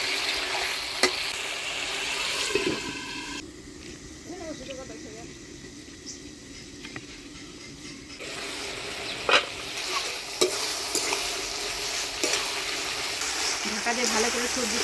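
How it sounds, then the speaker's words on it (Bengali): Chopped vegetables and gourd shoots with leaves frying in a pan, stirred with steady scraping and a constant sizzle; the stirring pauses briefly midway before the clatter resumes. "সবজির সাথে ডোগা পাতা দিয়ে ভালো করে নাড়াচাড়া করে নিলাম"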